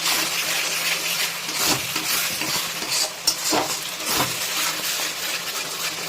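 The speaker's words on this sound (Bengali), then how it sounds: "আর এই সময়তেই দিয়ে দেবো দেখুন গুঁড়ো মশলাগুলো, দিয়ে এবার এটাকে ভালো করে এটার সাথে কিন্তু কষে নিতে হবে" Ground spices for a Bengali cauliflower roast sizzle and fry in a very hot kadai while a utensil stirs and scrapes. The steady hissing is broken by scattered metallic clinks, and no one talks.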